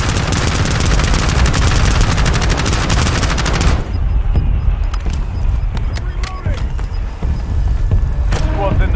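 Loud sustained automatic gunfire from Call of Duty Warzone fills the first four seconds with rapid bursts, followed by scattered sharper shots and game effects, with players talking over the action.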